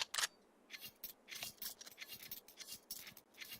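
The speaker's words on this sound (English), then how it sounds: "Do you hear some typing on the server," Keyboard typing on a competitive esports server during a technical pause, a quiet run of irregular soft clicks and taps close by, with no talk over it.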